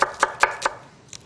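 A kitchen knife slices potatoes into thin strips for japchae, making four crisp, evenly spaced chops on a cutting board followed by a softer tap, all close and clear with no talking.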